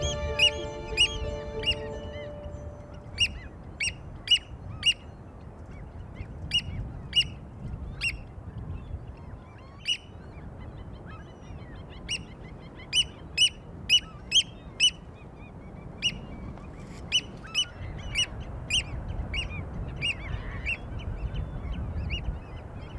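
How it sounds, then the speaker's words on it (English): Oystercatchers give repeated sharp piping calls on a rugged Irish coast, coming in irregular bursts and quick runs over a steady background rumble of wind or surf, with no talking. "the oyster catchers can be seen and heard"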